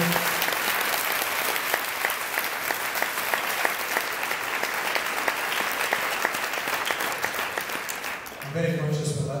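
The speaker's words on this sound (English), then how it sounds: "I think we should offer a round of applause." A conference audience gives Fiona a sustained round of applause, dense and even clapping that fills the room before tapering off, followed by a voice starting to speak.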